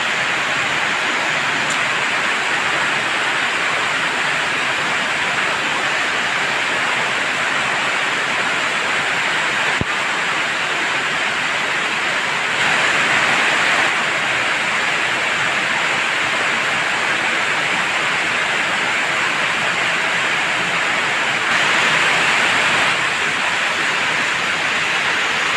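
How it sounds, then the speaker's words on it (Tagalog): Heavy, unbroken rain pours during a long downpour in Nepal, a dense hiss of steady noise that holds level throughout with only slight swells in intensity. "simula kagabi, umuulan na naman. Nung isang araw, wala na siyang tigil eh."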